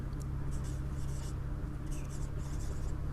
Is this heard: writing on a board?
yes